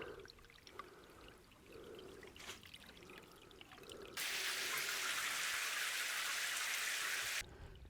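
Grey water carrying gunk pours out of a pipe into a wetland: soft trickling and dribbling, then a loud, steady rushing gush for about three seconds before it drops back to a quieter trickle, with no talk.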